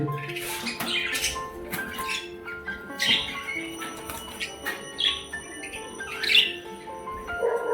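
Caged birds being taken to market for sale squawk and chirp in scattered, sharp bursts nearby, with faint rustling and shuffling underneath.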